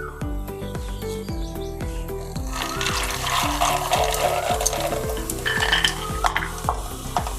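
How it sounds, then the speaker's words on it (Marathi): Peanuts sizzle in hot oil for kurmura chivda, with a steady fry hiss that builds midway and a regular rhythm of stirring knocks and scrapes running throughout. "आता तेल छान गरम झालं आहे. आपण ह्यामध्ये शेंगदाणे घालूया."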